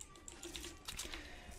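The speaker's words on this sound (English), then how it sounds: "So some people like the keyboard noises when streaming." Typing on a Razer BlackWidow Elite mechanical keyboard, a faint, steady patter of quiet key clicks heard alone at low level.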